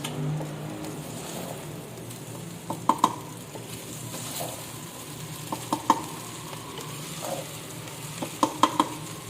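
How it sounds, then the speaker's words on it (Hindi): Sugar being stirred into rice cooking in a wide open-mouthed pot for degi zarda, giving a steady soft sizzle with scattered sharp spoon-on-pot clinks and scrapes, close and alone. "चीनी को मिक्स कर लेंगे चावल के साथ।"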